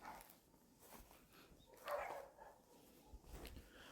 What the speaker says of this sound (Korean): 지금 강아지들이 여기서도 짖고 저기서도 짖고 너무 많이 짖는 것 같습니다